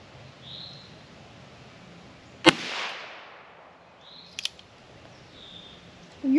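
A single gunshot at an outdoor shooting range cracks sharply, then a couple of quieter clicks follow, with faint background sounds and no talking.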